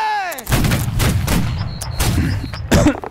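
Close volleys of gunfire from a video game firing drill, several sharp booming shots spaced about half a second apart, loud and dry, with a short voice heard near the end.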